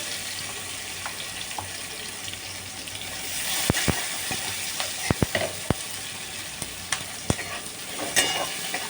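Onions seasoned with salt and turmeric fry in a pan with a constant hiss, punctuated by sharp clicks and taps of a utensil against the pan, growing busier toward the middle.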